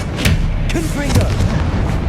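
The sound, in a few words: Confringo spell explosion from Hogwarts Legacy video game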